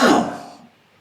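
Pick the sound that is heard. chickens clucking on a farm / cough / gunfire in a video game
cough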